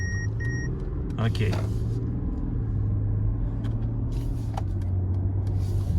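A Mercedes GLE driving in city traffic behind other cars, steady low engine and road rumble throughout, with a brief voice and faint passing-traffic noise in the background.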